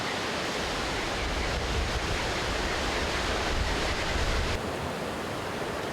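Waterfall at Plitvice Lakes National Park, a steady, loud broadband roar of rushing water that fills the whole stretch without pause, with no voices over it.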